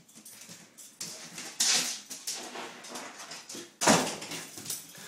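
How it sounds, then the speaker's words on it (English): A dog at home pads across the floor and pushes a door shut on command, with light scrabbling and two sharper bumps of the door. "Go close the door."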